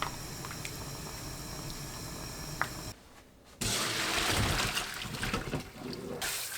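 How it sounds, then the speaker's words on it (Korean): Chicken blanches in a pot of boiling water with soju, a steady bubbling hiss that drops out briefly and then returns louder and fuller, close by with no talking. "끓는 물에 닭,"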